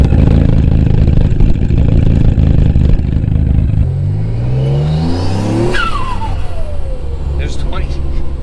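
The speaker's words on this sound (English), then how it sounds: "The cam sounds so sick." A Mitsubishi 3000GT with cams and maxed-out turbos revs loudly and close, its engine note climbing and falling in sweeping rises, with a sharp pitch drop near the end.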